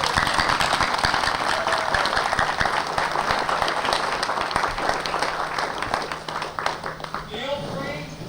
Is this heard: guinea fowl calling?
no